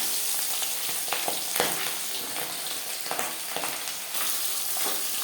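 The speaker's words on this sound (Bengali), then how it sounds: "পাবদা মাছ একটু ফোটে সাবধানে ভাজতে হবে" Marinated pabda fish sizzles in hot refined oil in a pan: a dense, steady crackling hiss held close for several seconds, broken by occasional sharper pops and spits.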